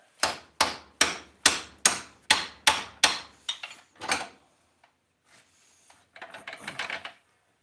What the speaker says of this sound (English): We're going to use a hammer to hit this.